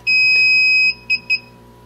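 A DJI Phantom 3 drone emits electronic tones during a firmware update: one long sustained beep followed by two short ones, sharp and close in an otherwise quiet room.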